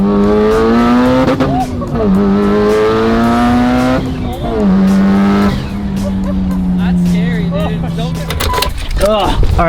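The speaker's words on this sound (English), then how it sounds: "Damn, that's a fast car." A 600hp Mitsubishi Evo 8 accelerates hard, its engine loud and close as it climbs through the revs with brief dips at each gear change, while people talk over it.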